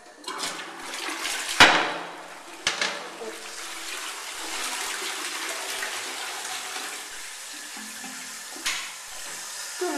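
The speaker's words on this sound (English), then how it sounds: "Let's flush the toilet, see what it looks like." A toilet flushing in a college washroom: a sharp initial surge followed by a steady rushing, gurgling wash of water that lasts several seconds, fairly close and moderately loud, ending with a fainter swirl.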